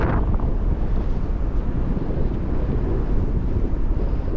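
Strong wind buffeting the microphone on the open sand of Rhossili Bay, Gower, a steady loud roar with gusty rumble throughout, no voices.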